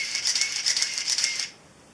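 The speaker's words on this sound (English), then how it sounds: "You can hear it. It always does the choo-choo-choo-choo-choo, does that four times." A Minolta Maxxum 7000 film camera's motor winds film forward after loading, giving a close, quick burst of rattling mechanical whirs in several pulses that lasts about a second and a half, then stops into quiet.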